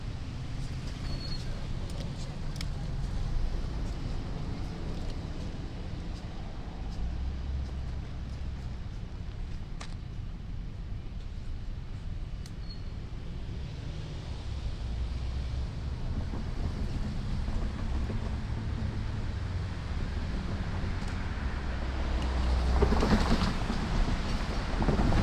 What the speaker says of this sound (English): As this M3 is just making its way east now,